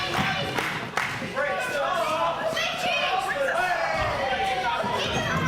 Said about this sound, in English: I think the crowd are enjoying this a little bit too much.